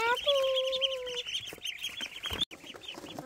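A small duckling on a farm peeps in a few thin, high, drawn-out calls near the start, followed by softer chirps and faint rustling close by.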